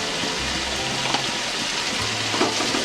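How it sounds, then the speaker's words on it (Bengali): Spices and an egg biryani mixture sautéing in a pan, a steady close sizzle and fry hiss running throughout with no talk. "সব কটা মিশিয়ে আমি ভালো করে কষিয়ে নেব 1 মিনিট"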